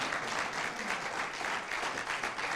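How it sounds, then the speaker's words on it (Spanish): Steady, loud applause from a church congregation during a Spanish-language sermon, dense continuous clapping filling the room without pause. "Denle un fuerte aplauso al Señor"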